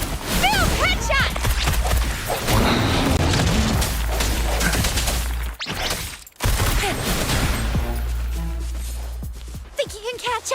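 Rapid bursts of gunfire and crashing impacts fill a Wuthering Waves game battle, with dense shots and booms under energetic character voice lines.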